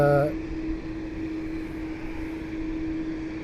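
A Boeing 787 Dreamliner arriving at Toronto airport, a steady distant jet engine drone with a low hum throughout, after a brief tonal sound at the very start.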